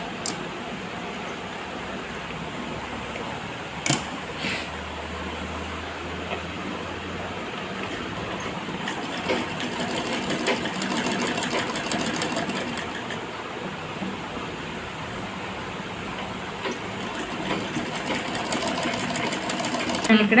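A sewing machine runs steadily while stitching a palazzo pant made from an old top, a continuous mechanical whir under a voice speaking throughout.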